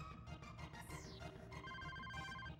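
A telephone rings in the video game Mischief Makers over steady game music, with a bright electronic tone that repeats in short pulses.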